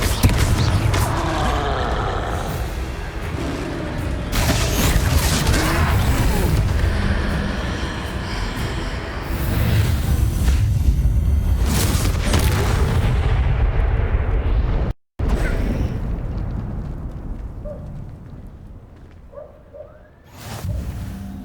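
Repeated Confringo fire-spell blasts from the Hogwarts Legacy game, loud booming explosions with whooshes in quick succession for about fifteen seconds. A short silence follows, then quieter rumbling and a final burst.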